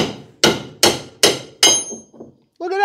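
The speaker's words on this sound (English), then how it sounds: "And now, back to the pounding." Hammer pounding on a badly stuck two-piece vehicle torsion bar: five loud, sharp metallic blows in steady rhythm, each ringing briefly, followed by a short burst of a voice at the end.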